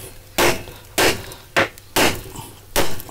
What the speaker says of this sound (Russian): Попробую сначала алюминиевым молотком.